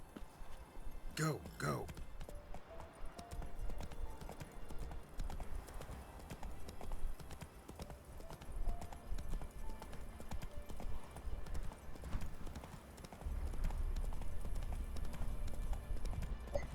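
Hooves of the horse in the video game Witcher 3 drum in a quick, steady clip-clop gallop, close and continuous beneath someone talking, with brief game sounds and a shouted command early on.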